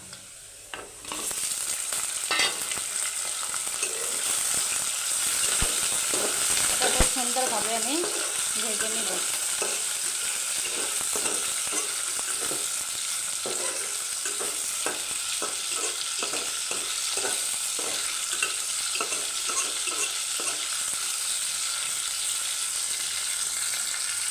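A spice paste fries in a pan with a continuous close sizzle and repeated stirring scrapes and taps, then chicken pieces go in with a louder hiss and clatter before the steady frying resumes.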